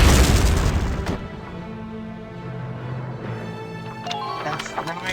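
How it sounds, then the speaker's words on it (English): A grenade blast in Valkyria Chronicles opens with a loud, deep boom that rolls off over about a second, followed by quieter game sounds and faint clicks. "That's throwing a grenade."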